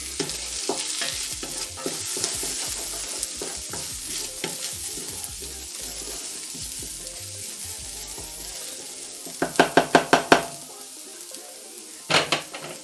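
Ginger, garlic and onion fry in a pan for pumpkin and orange soup, stirred with a spoon over a steady close sizzle, then a quick run of sharp utensil taps against the pot near the end, without voices.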